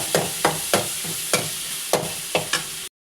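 Crushed ginger and garlic fry in a pan with a steady sizzle while a utensil stirs them in regular scraping strokes, about eight in a row, close and clear, ending abruptly.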